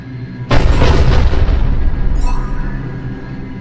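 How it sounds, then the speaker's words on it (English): Cruiser cannon bombardment in Mass Effect 3 opens with a sudden, very loud booming impact after half a second of quiet, then a long roaring rumble that slowly fades, with a faint crackle partway through. "Commander, cruiser initiating bombardment."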